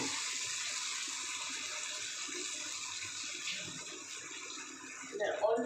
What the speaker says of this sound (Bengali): এই মিক্সির জলটা আমি এর মধ্যে দিয়ে দিলাম।